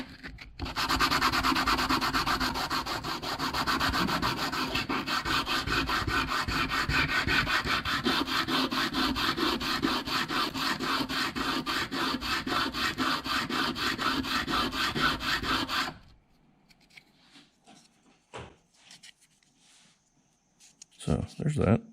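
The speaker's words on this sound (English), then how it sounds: "And this is some cheap sandpaper." A 3D printed GoPro mount is hand sanded with cheap sandpaper, giving a steady, fast back-and-forth scratchy rubbing close up for about sixteen seconds before stopping, followed by a few faint handling knocks and a brief rub at the end.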